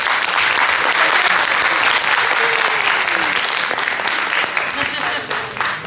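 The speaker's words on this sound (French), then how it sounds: "mais là, ils vont vraiment bien applaudir" Sustained applause from an audience at a French eloquence contest, a dense, steady clatter of many hands clapping throughout that loosens and thins toward the end.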